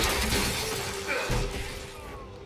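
A shatter combo spell effect in the Dragon Age multiplayer game bursts out as a loud, crashing glassy break, decaying over a couple of seconds with a faint ringing tail.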